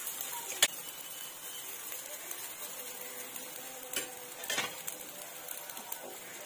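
A cheese-stuffed aloo paratha roasts in ghee on a pan, giving a soft, continuous sizzle broken by occasional spatula scrapes and a few sharp metallic clinks, with no voices.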